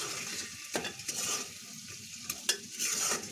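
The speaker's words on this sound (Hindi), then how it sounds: "अब हम इनको अच्छे से मिक्स करेंगे।" Kashmiri mirchi korma (marchwangun korma, wazwan style) stirred in a pan: soft scraping strokes and a few sharp spoon clicks over a low sizzle, close and quiet, with no talking.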